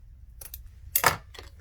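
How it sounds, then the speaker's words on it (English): Scissors cutting off excess zipper tape while sewing a bag, a few short close snips, with one sharper, louder cut in the middle over a quiet background. "I'm going to cut off this extra zipper right here."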